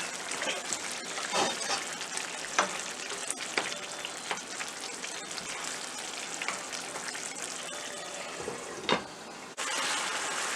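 Green peas paneer gravy with paneer cubes bubbles and sizzles steadily in a pan, a dense continuous crackle with scattered louder pops, close up and with no talking.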